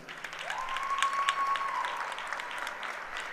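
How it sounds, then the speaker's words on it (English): A crowd in a high school gym claps steadily for senior basketball players at a Kennedy High versus Torrington game, a sustained dense patter of applause with a faint whistle tone running under it. "the crowd gives them a well-deserved round of applause"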